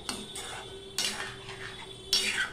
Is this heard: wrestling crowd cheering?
no